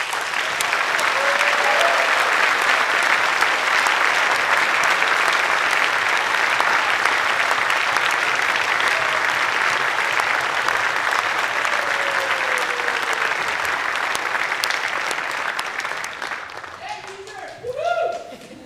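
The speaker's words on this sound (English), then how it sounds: "I would like you to join me in applauding our outstanding staff" Sustained applause from a graduation ceremony audience honouring the staff, a dense, steady wash of clapping that holds for about fifteen seconds, then thins and fades out, with a brief murmur of voices at the end.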